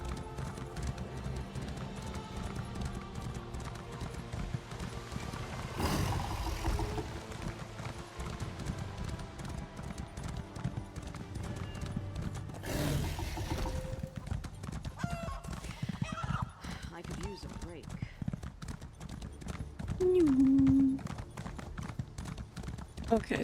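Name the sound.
horse hooves clip-clopping in video game Elder Scrolls Online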